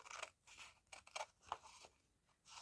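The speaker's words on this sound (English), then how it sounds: "So trim this out." Scissors trim paper for a handmade card, a close, quiet series of crisp snips and rustles in uneven rhythm, with no talking.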